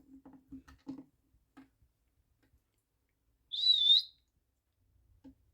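Pet Quaker parrot gives a single short, bright rising-and-falling whistle, clear and fairly loud against quiet room background, after a few soft low murmurs and a faint tap.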